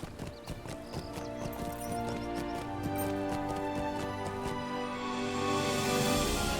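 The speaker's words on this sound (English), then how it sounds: "I'm honestly just kind of curious now how many horse rides I have to take to get here." Hoofbeats of a ridden horse in the video game Lord of the Rings Online, a quick regular clip-clop over steady game music, with a horse whinny.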